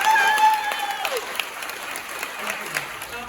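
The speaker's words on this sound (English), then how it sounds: "Give the president a big round of applause." Crowd applause for the president at a political rally, a steady roar of clapping and cheering that starts loud and holds throughout, with a few whistles and shouts in the first second.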